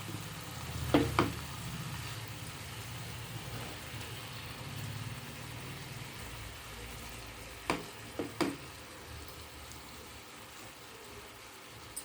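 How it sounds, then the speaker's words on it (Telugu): Fish pieces simmer in tomato gravy in a pan, a low steady bubbling sizzle broken by a few sharp clinks of utensils against the pan. "ఇప్పుడు మనం కలిపి ఉంచుకున్న చేప ముక్కల్ని ఇందులోకి ఇలా వేసుకోవాలి"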